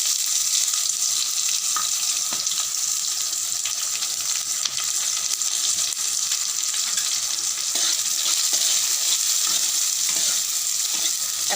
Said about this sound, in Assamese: এতিয়া তাতে দি দিম কাটি লোৱা পিঁয়াজখিনি